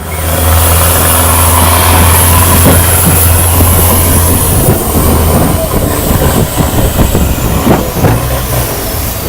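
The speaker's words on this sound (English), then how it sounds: "So we're on the riverboat." A riverboat engine in Bangkok runs with a steady, loud drone throughout, with rumbling mechanical noise and faint background voices, heard from on board.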